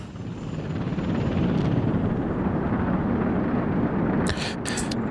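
A helicopter flies in the Soviet-era city builder Workers & Resources, its steady rotor roar swelling and holding close, with a couple of brief bright clicks near the end and no talk.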